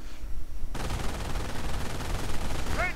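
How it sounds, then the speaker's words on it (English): Sustained automatic machine gun fire in a WWII strategy game, a dense continuous rattle that starts abruptly after a brief quieter moment and holds steady and loud throughout, with a few high whistling tones near the end. "they are coming under fire from the building with its MG"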